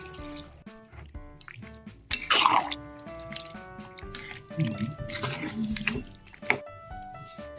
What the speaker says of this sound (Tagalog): Lagay tayo ng tubig galing ng riverside.